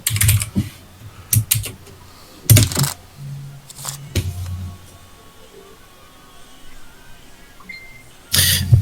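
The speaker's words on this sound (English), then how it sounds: "Besides the loud typing." Loud typing on a computer keyboard comes in bursts of clattering keystrokes separated by pauses, close and prominent with no talk.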